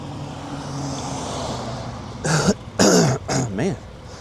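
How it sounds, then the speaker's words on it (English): A few harsh throat-clearing grunts in quick succession near the mic, following a stretch of quiet background hum. "Clear my throat."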